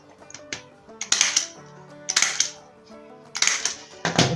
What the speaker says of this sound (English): So let me just staple it.